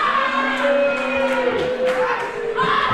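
Wrestling crowd at a pro wrestling show yelling and jeering at the wrestlers in the ring, a loud, steady wash of mixed shouts with a few voices rising above the rest.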